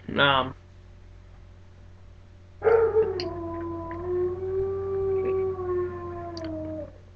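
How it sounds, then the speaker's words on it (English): A pet dog howls in two bursts: a short, close, rising cry, then after a pause a long, loud, sustained wavering howl lasting several seconds, with no speech. "Sorry if there's a dog barking."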